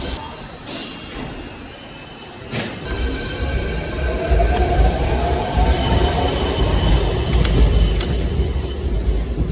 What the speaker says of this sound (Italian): vi faccio vedere come questa parte della metro sopra elevata